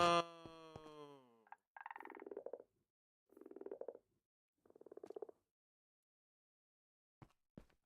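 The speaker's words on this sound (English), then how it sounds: "listening to the noises that the frogs are making?" Frogs croaking in the Minecraft Sky Frogs modpack: a buzzy tonal call opens, then three separate, evenly spaced croaks follow, each a short rough burst, with two faint clicks at the end and silence between.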